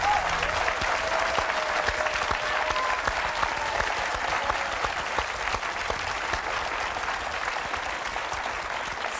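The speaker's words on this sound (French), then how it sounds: "Nous vous applaudissons très fort." A studio audience at the French quiz show Qui Veut Gagner des Millions applauds heartily, a dense, even wash of clapping that holds steady for about nine seconds with no voices over it.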